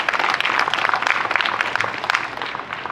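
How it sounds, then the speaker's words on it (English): A crowd claps steadily and fairly loudly at a pro-Palestine activists' press conference at the University of Michigan, with dense continuous applause throughout. "please feel comfortable to clap more loudly for that"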